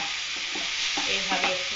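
Spice masala frying in oil in a pan: a dense, close hiss of sizzling with a few soft stirring scrapes rising through it, and no talking.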